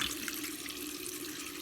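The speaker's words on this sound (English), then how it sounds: "And then you wash it off with cold water." Cold tap water runs steadily into a sink during a face rinse, a soft even splashing hiss that holds throughout, close but quiet, with no voices.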